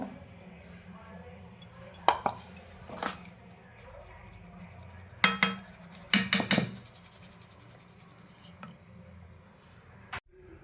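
Powdered sugar being sieved for a homemade Christmas cake, heard as soft scratchy scraping with a few sharp metallic clinks and taps from the sieve and bowl, moderately close, with no talking.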